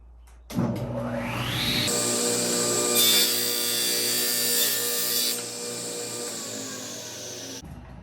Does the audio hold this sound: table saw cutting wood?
yes